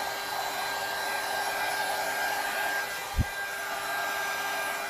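A heat gun blows steadily on an alcohol ink tumbler, giving a constant close whooshing roar with one brief thump partway through, with no speech.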